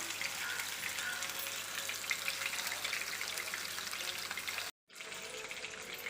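Fish frying in oil at a beach stall, a steady, dense crackling sizzle that holds at an even level, cut by a brief dropout of silence near the end before the frying noise resumes.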